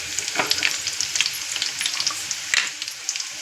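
Onions sizzle in a pan of oil for a ridge gourd pulusu, with a dense, crackling fry close by and occasional spatters and stirring sounds, and no voices.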